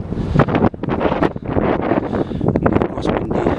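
Strong coastal wind at Howth at low tide buffets the microphone in loud, gusty bursts of roaring noise throughout, with no clear talk.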